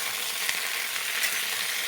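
Cauliflower and potato pieces frying together in a pan, a steady, dense sizzle that holds an even level throughout, with a couple of faint stirring knocks close by.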